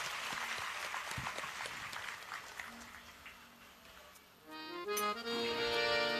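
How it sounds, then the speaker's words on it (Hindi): An audience claps for a girl at a religious gathering, a fairly dense burst of applause that thins out and then gives way to music. "जोरदार तालियां बिटिया के लिए हो जाए।"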